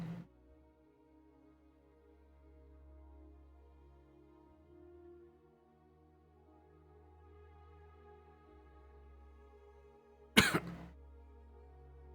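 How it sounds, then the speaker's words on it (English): A single sharp cough breaks a long, quiet stretch of faint low hum near the end, followed by a brief trailing rasp. "I've got a cough now."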